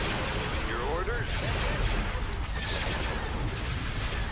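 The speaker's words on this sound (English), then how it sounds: "Imperial starships are blasting." Imperial starships trade blaster fire in the Star Wars: Empire at War space battle, a dense, continuous rumble of booming shots and zapping laser bursts with game voices talking over the top.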